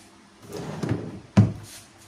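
Pull-out drawers in a wardrobe slide and bump shut, a soft scrape followed by a sharper knock, close up with no talk.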